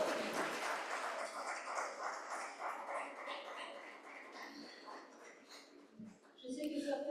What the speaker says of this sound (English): let's applaud our speakers today, all of them